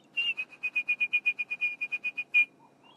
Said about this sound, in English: And in the background, a lot more bird song today for some reason.